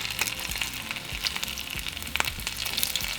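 Chicken taquitos fry in hot oil, a close, steady sizzle packed with rapid crackles and spitting pops throughout, with no voices.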